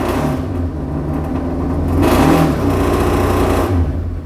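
A Suzuki Hayabusa engine swapped into a Toyota Sirion race car revs hard and loud, a buzzing high-rpm motorcycle-style drone that surges and swells mid-way, heard up close with no talking over it.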